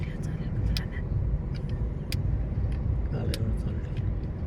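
Cars and other vehicles drive past on a busy village road in Jalna district, making a steady, loud low rumble of traffic while people talk close by.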